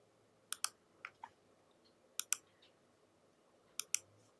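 Computer mouse clicks while working in Dreamweaver: several crisp, close clicks arriving in quick pairs and singles over a quiet room background.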